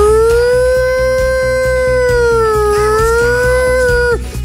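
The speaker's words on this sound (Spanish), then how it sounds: "Suenan las sirenas en Juan Pinto Durán." A wailing siren sound effect played on a Chilean sports talk show, one loud sustained tone rising and falling slowly over several seconds with a steady low rhythmic pulse underneath, cutting off abruptly at the end.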